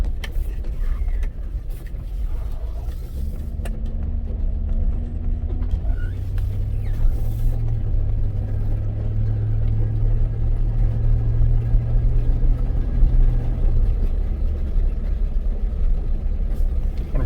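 Steady low road rumble inside a Chevy Suburban cruising around 35 mph, a continuous droning hum with a faint tonal whine rising and fading, and no talking.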